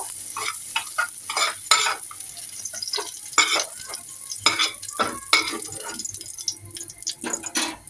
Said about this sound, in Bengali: পেঁয়াজগুলো কিন্তু ভাজা হয়ে গিয়েছে